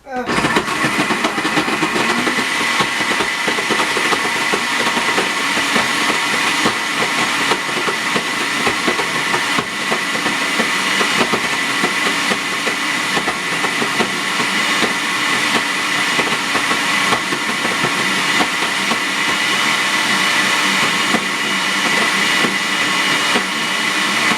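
A blender whirs loudly and continuously at a steady pitch while blending candy, its motor drone filling the whole stretch without pause.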